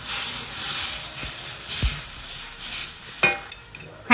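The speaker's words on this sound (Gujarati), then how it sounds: "આપણે કરી નાખશું એનો વઘાર." Spices and asafoetida crackle in hot oil as a vaghar for sweet-and-sour Gujarati kadhi, a close, steady sizzle broken by a few sharp stirring clicks against the pot.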